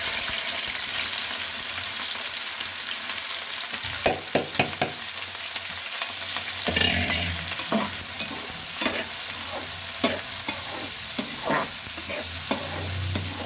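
Onions, green chillies, ginger and tomatoes fry together in a pan for a Punjabi tomato chutney, giving a steady close sizzle broken by repeated spatula scrapes and stirring knocks, with no voices.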